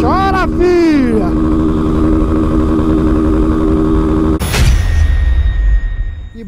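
A Honda Fan 160 motorcycle with a Dore exhaust revs hard up and down, then settles into a loud, close, steady buzzing roar, with a burst of crackle midway and voices briefly over the start.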